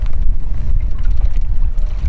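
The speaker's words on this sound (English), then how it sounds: "it's very windy out here today" Strong wind blowing outdoors on the water while fishing from a boat, a loud low rumbling buffet against the microphone that rolls on continuously without pause.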